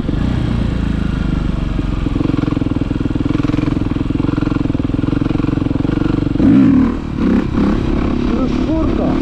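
A motorcycle rides in third gear at low speed, its engine droning steadily up close before a brief shift in revs near the end.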